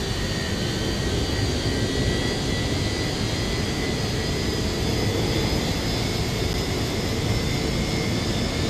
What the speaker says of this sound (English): you can see the engine 2 will start turning soon.